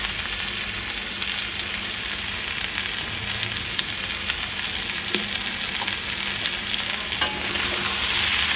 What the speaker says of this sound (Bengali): আদা কুচুনিটাও কিন্তু এর সাথে একসাথে ভাজা ভাজা করে নেব